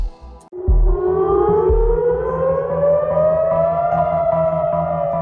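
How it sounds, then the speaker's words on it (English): A civil defense air raid siren in Israel wails loud and steady, its tone gliding slowly upward after a sharp thump at the start, with no voices over it. "sirens rang out across Israel"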